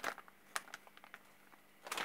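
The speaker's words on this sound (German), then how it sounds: "ich mach mal auf die Tüte, ne?" A plastic bag holding RC shock seals for a Losi 5T is torn open, giving a few soft, close crinkles and rustles followed by a louder crackle at the end.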